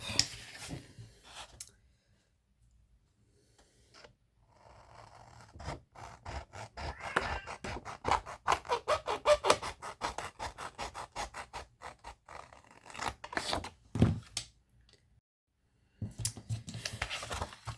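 Scissors cut paper for a junk journal in a quiet room, making a series of soft, close snipping and rasping strokes in rhythmic runs broken by pauses, with no talking.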